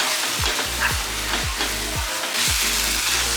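Masala with coriander and cumin powder cooks on a low flame in a steady close sizzle, while a spoon scrapes the pan in regular strokes about every half second.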